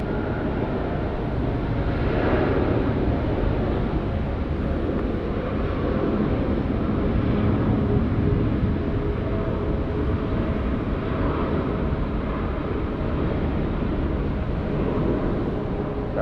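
A Jetstar airliner begins its takeoff roll on runway 16 right at Sydney Airport, a steady, broad jet roar that holds near and loud throughout, swelling slightly in places with no voices over it.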